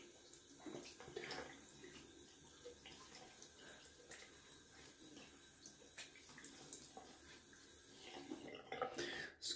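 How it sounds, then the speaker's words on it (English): Cold tap water runs into a bathroom sink and splashes as it is scooped onto a face, a steady close running-water sound with irregular splashes and drips. "Gonna add some cold water to my face."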